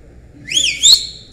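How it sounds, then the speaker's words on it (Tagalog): A whistle is blown twice in quick succession, a bright shrill tweet with a rising second blast, loud and close over faint background murmur. "Pakipito nga."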